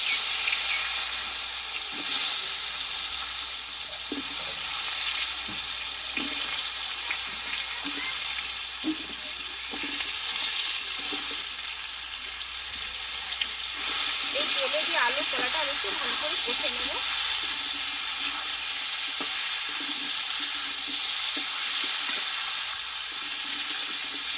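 Potato and green banana pieces fry in hot oil seasoned with salt and turmeric, giving a steady, dense sizzle that continues throughout with faint scraping and bubbling bursts underneath.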